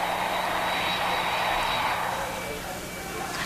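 A passenger airplane's engines roar in a broad, steady wash of noise, loud and continuous with a slight fade toward the end, while a voice speaks over it.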